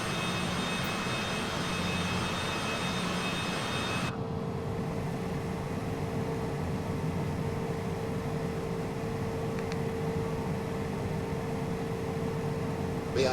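Cessna Citation CJ4 business jet engines idling while taxiing in a flight simulator, a steady close whine and broadband hiss that holds evenly throughout, briefly brighter at the start, with no talking.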